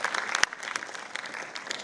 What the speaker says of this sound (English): can we have a round of applause for our guest of honor?